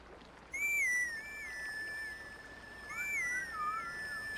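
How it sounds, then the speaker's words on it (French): A melodic whistled tune played on a picked plant in the game Zelda Twilight Princess, two clear high phrases of sliding notes over faint background hum, with no speech. "Cueillir l'une des plantes et siffler un air pour Epona, elle adore ça."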